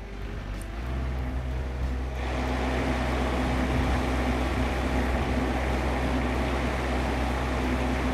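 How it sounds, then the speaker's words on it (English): Miller ArcReach wire feeder for gas metal arc flux core welding powering up, a steady low mechanical hum and whir that swells after about two seconds and then holds constant, close and fairly loud with no talk. "I can now power my feeder on."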